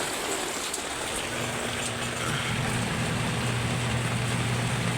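A Panasonic washing machine motor runs during a repair test, the unit weak when spinning in reverse. A low steady hum sets in after a moment beneath a constant wash of noise, with no voices.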